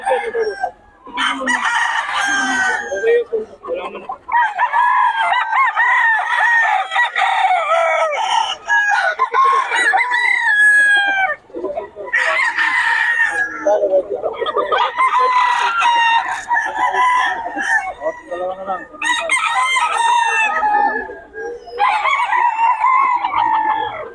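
Young roosters (stags) crow loudly and repeatedly at a poultry market, with long overlapping crows in close succession and brief clucks between them.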